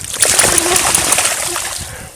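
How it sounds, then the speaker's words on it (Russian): A dog swims in a river, splashing and sloshing the water close by, with a person talking to it over the splashes. "Ну, собачка, конечно, поплыла."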